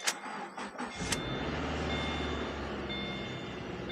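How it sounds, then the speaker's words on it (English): A car engine cranks with a few quick starter bursts, catches and settles into a steady, slightly rattly idle, with a faint high whine above the running engine. "Okay, engine's a little rattly."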